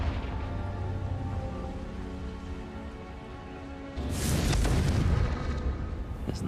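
A Confringo fire spell erupts in a video game with a sudden booming blast over a steady rumbling background, the explosion swelling loudly and then fading.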